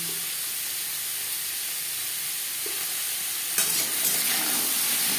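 Papaya pieces with salt and turmeric sizzle softly in oil in a pan, a constant frying hiss. Partway through, a brief louder scrape and spatter marks a stir. No one speaks.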